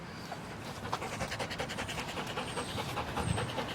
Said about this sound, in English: Yeah, he's panting a lot.